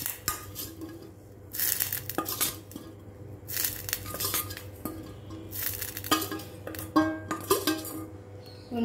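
Rice dumplings for milk kozhukattai dropped into a pot of boiling milk, close clinks and knocks of a utensil against the pot in irregular bursts, with scraping between them and no talk.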